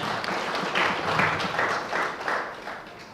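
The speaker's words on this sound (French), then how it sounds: "Applaudissez les femmes, s'il vous plaît." An audience at the official launch of an accountants' club in Senegal claps for the women, a moderate wash of applause that swells in waves, then thins out toward the end.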